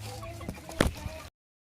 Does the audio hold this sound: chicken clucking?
yes